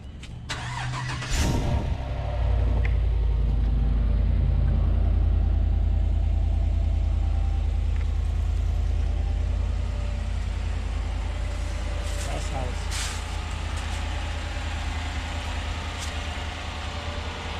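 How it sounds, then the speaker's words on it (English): A 2016 Chevrolet Silverado pickup with its stock exhaust cranks and fires, then holds a loud, steady, deep idle rumble for the rest of the stretch, with a few faint clicks and no talking. "But let me show you guys how it sounds"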